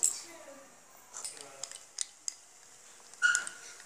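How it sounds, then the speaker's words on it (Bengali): A metal spoon stirring milk with cardamom in a pot, giving scattered light clinks and scrapes against the metal at an irregular pace, with quiet kitchen movement between the taps. "এলাচ নিয়ে এটাকে নাড়তে থাকবো"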